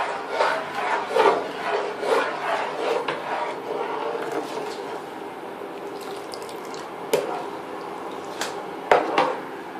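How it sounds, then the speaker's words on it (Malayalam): A spoon scrapes and rubs around a pot of sweet chow chow being stirred, a rhythmic wet scraping that swells and fades in repeated strokes, close by, with a few sharp clinks near the end. "ഇനി ഇത് വീണ്ടും ഇളക്കി കൊടുക്കാം"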